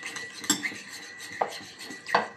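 A clean spoon clinks against bowls and dishes while a flourless bread is mixed, giving three or four bright, separate metallic taps spread over a few seconds with soft scraping between them.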